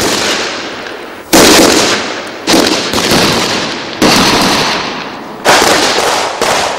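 Loud gunfire during a military training exercise, heavy bursts of shots with echoing tails, four big volleys in quick succession filling the space, with no talking.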